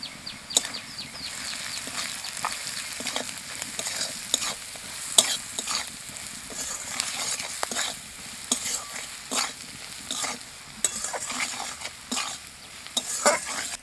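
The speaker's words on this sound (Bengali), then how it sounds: "মশলা ভাজা হয়ে গেছে" Spices with salt, turmeric and chili powder frying in a pan for a potato and eggplant dish, a soft steady sizzle broken by repeated scraping stirs and light clinks, close and fairly quiet.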